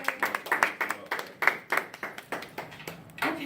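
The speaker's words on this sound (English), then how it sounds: "Let's give her a round of applause" A small group of sixth graders in a classroom claps for a classmate, a quick burst of individual, uneven hand claps at close range.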